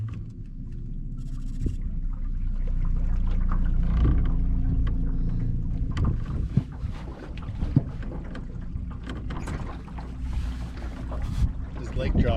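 A small fishing boat moves across a lake in a steady low rumble, with wind buffeting the microphone and occasional knocks and splashes close by.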